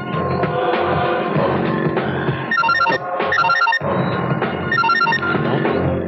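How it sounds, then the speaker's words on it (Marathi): A telephone rings in a Marathi action film scene, a repeated electronic bell pattern in bursts over a dense, loud music and effects background, without dialogue. "आधी फोन लागला"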